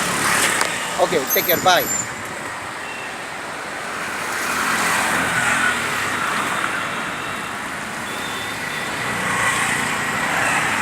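A new automatic car drives along steadily, its engine and road noise forming a continuous mid-level wash under brief talk at the start.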